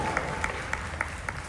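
Scattered clapping from a fan convention audience (Supernatural NJCon 2025), with a few distinct, evenly spaced claps standing out over a steady wash of crowd noise for a brief moment.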